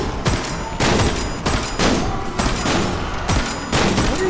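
Gunfire in the video game Metro Awakening, with dense bursts of shots coming in several loud waves separated by brief lulls, and no talking.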